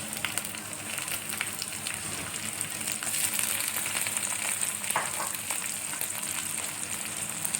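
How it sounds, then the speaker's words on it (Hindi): Chicken pieces frying in a hot pan for biryani, a continuous crackling sizzle with scattered pops and a few stirring scrapes, close and steady. "अब इसमें चिकन डालें।"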